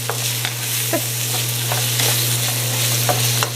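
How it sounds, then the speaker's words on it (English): Carrots and onions stir-fry in a small wok with pork for fried rice, a steady bright sizzle broken by several sharp scrapes and clinks of a utensil stirring, close and fairly loud with no talking. "I'm adding the carrots now along with the onions"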